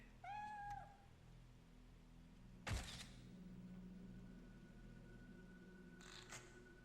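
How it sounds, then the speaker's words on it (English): A cat in the game Fatal Frame III gives a short, clear meow near the start, followed by a sharp thud and a faint later click over a quiet hum, with no talk. "Kitty."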